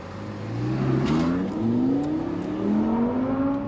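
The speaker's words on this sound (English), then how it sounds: "this is my first ever drive in a Ferrari 296 GTS" A Ferrari 296 GTS engine revving and accelerating through repeated upshifts, its pitch climbing and dropping with each gear change, loud and close, no talking.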